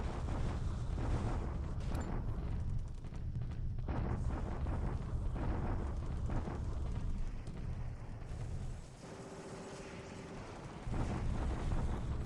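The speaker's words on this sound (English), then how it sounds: "we got the daily bombardment at Changsha." Artillery bombardment at Changsha in the wargame War in the Pacific: a dense, continuous roll of rumbling explosions and booms, loud and sustained, briefly thinning before the barrage swells again.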